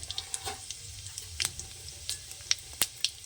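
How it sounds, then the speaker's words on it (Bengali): Dried red chillies and whole cumin seeds fry in hot oil for a tempering, giving a quiet, sparse crackle with scattered sharp pops over a low hiss, close up and without speech. "লাল করে ভেজে নেব"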